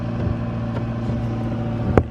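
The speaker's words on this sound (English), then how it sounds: "So this engine's been running for 5 minutes at idle." An irrigation pump engine idles at a cranberry bog, a steady low rumbling drone with a brief clank near the end, continuous and fairly loud with no voices.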